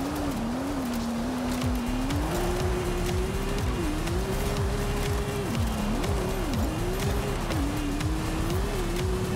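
A Subaru Brat S1 rally build in Forza Horizon 5 roars steadily downhill, its engine note rising and falling through gear shifts and a chicane, loud and continuous with no talk over it.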